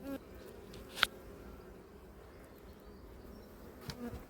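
Honey bees buzzing inside a hive box at an apiary, a faint, muffled drone heard through the box's side, broken by one sharp knock near the start and a softer one near the end.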